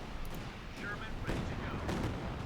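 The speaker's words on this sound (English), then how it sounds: "Another Calliope barrage." A Calliope rocket artillery barrage in the video game Company of Heroes 2 thuds and crackles with repeated distant impacts under steady battle noise, while a commentator talks over it.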